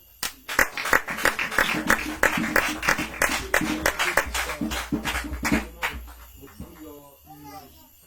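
Church congregation at an evening worship service clapping and cheering to welcome the day's preacher, a dense burst of claps with voices mixed in, fading after about six seconds.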